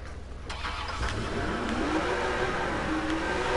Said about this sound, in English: I got a white GT. I'm driving backwards.